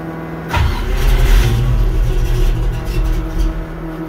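A carbureted car engine fitted with an Edelbrock/Carter AFB electric-choke carburetor cranks and catches after a short pause, then settles into a loud, steady, slightly rough idle close by.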